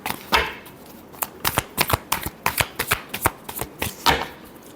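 A deck of tarot cards is shuffled close up, quick papery riffles and slaps in a rapid irregular series of crisp snaps, with no speech.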